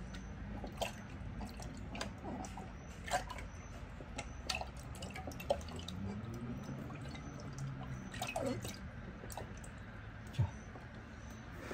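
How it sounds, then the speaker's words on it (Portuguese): Fresh baker's yeast is stirred by hand into a litre of water for a poolish, giving soft, close liquid swishes and scattered drips over a steady low background, with no voices. "Vou misturar aqui na água esse fermento aqui, eu gosto de misturar o fermento na água."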